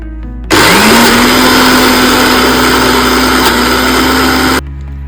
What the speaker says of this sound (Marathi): जाडसर डाळ वाटून घ्यायची आहे